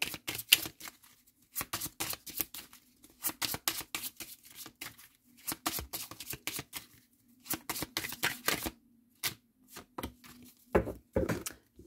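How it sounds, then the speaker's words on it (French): Cartomancy cards being reshuffled by hand, a run of crisp riffling and flicking bursts coming in quick irregular clusters with short pauses between, close and fairly quiet, no voice over them. "Je vais juste remélanger."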